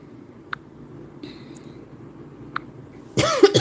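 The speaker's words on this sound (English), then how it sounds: "I got a cough. Oh, this is terrible." After quiet room noise with a few faint clicks, a close, loud cough bursts out near the end, rough and brief.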